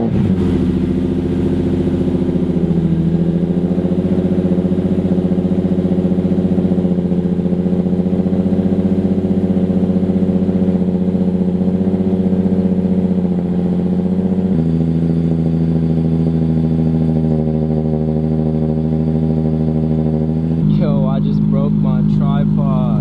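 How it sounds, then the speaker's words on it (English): Nissan 350Z engine cold-starting and idling, a loud steady low engine drone close up with a shift in pitch partway through and a brief blip near the end. "Cold start time"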